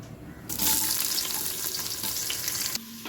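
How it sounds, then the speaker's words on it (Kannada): Chopped onions hit a hot pan with oil and curry leaves, setting off a sudden loud sizzle that hisses steadily, then drops sharply near the end. "ಈಗ ನಾನು ಕಟ್ ಮಾಡಿ ಇಟ್ಕೊಂಡಂಥ ಈರುಳ್ಳಿಯನ್ನು ಇದಕ್ಕೆ ಸೇರಿಸ್ಕೊಳ್ತೇನೆ"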